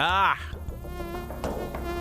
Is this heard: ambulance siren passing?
no